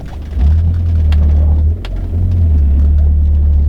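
An Audi B7 A4 with a K04 turbo rolls slowly into a driveway, its engine a loud steady low drone that dips briefly mid-way before settling back, with occasional faint clicks and rattles.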